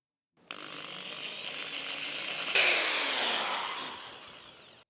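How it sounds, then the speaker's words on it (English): Power drill with a 2mm bit boring into a motorcycle handlebar on a Honda CRF300 Rally, a close, loud whine that starts abruptly, shifts pitch midway as the bit bites, then slowly winds down. "So here I have a 2mm drill."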